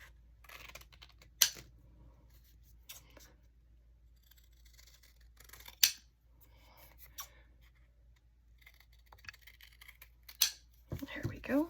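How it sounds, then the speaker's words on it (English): Regular scissors cut through drop cloth fabric for a journal cover, making quiet, sparse snips with fabric rustle between them, close and soft, with faint speech in places. "I'm just cutting it with regular scissors"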